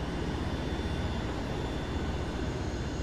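Helicopter engine in the military shooter game ArmA 3, a steady loud mechanical roar with a constant whine on top, droning without a break and no talking.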